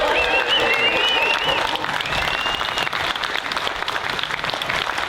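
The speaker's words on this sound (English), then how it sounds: "So please, a massive round of applause for that man there." A festival crowd gives a big, sustained round of applause for a storyteller, dense clapping with cheers and a few whistles near the start, loud and continuous throughout.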